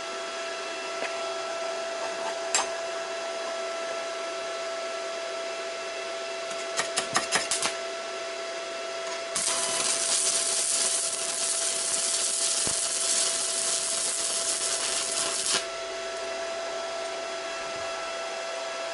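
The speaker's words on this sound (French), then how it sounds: "je vais faire une soudure à 90 degrés avec les différentes baguettes" Stick welding a 90-degree joint on 4–5 mm steel sheet with a thin rod at about 50 amps: a steady buzzing hiss with short crackles and bursts, one louder stretch of arc noise in the middle.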